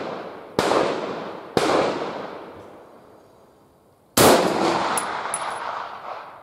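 Three sharp rifle shots from a VPO-209 carbine ring out outdoors, each a loud crack followed by a long decaying echo, with a longer gap before the third and final shot.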